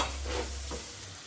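Small icha shrimp fry in a pan with a brief, faint sizzle and soft stirring, heard close with no voices.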